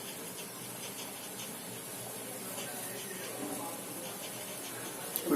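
Water with chopped ingredients boils in a pot for an immunity-boosting brew, giving a faint, steady, continuous hiss with no break.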